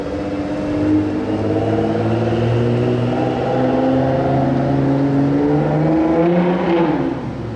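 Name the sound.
Ford GT engine starting and revving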